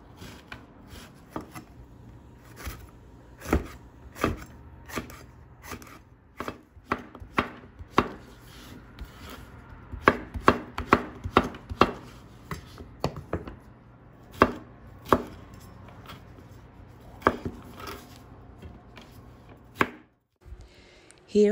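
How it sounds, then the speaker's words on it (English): A knife chops an onion on a cutting board in a string of sharp, close taps, sometimes spaced and sometimes in quick bursts, with no talking over them. "Here I'm just going to cut the onion."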